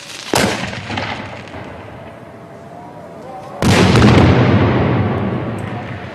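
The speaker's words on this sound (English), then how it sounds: "the final firework is lit to mark sundown" Two fireworks explode at sundown, each a sudden loud boom followed by a long rumbling, crackling decay; the second blast is bigger and louder.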